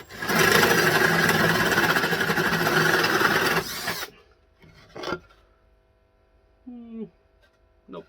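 A Pro Fit hole saw boring through a workpiece, a loud steady grinding rasp for about four seconds that stops abruptly, followed by a quiet room with a few clunks and a brief voice.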